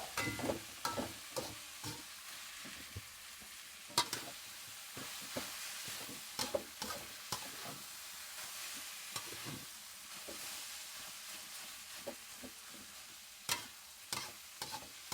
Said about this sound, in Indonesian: tumis saja sampai harum nih, biar udah mateng